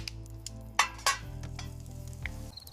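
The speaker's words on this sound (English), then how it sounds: "We grilling lobsters" Split, buttered lobster on a grill gives a steady, close sizzle under a low hum, broken by a couple of sharp metallic clinks of tongs or grate.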